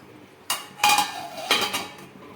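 A metal lid is set onto a pan of cashew curry on the stove, giving a few sharp clanks and clinks close by, each ringing briefly, with no one talking.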